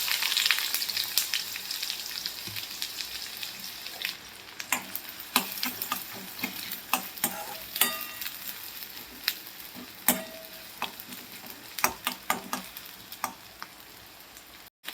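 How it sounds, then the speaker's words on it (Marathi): Onion frying in oil in a kadai for a capsicum masala, with a continuous close sizzle and repeated spatula taps and scrapes against the pan. "तर हे बघा इथं आपण कांदा भाजणार आहे पहिल्यांदा"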